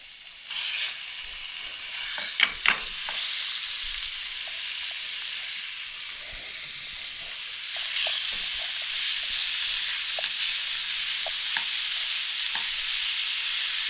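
Half a kilo of beef mince sizzles and fries in a pan as it is stirred, a steady close hiss with occasional scraping clicks of the spoon.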